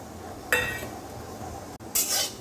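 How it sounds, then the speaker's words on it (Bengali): Whole garam masala spices (cardamom, cinnamon, mace, a dry red chilli, radhuni, cumin and bay leaf) stirred in a dry pan, giving two short bursts of bright clinking and rattling against the metal over a quiet background. "আমরা একটু গরম মশলাগুলিকে সামান্য একটু এদিক ওদিক করে নেড়ে নিচ্ছি"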